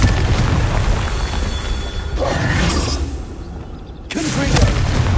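Blasting-curse explosions from the Confringo spell in Hogwarts Legacy, loud booming bursts with a drop into quieter rumble midway before another heavy blast erupts.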